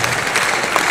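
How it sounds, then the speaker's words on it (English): A brief burst of steady crowd applause at a career day event on technology and innovation, a continuous broad patter of many hands at fairly close range. "Can we put our hands together for Mr. Mitchell Elegbe, the founder CEO of Interswitch Group."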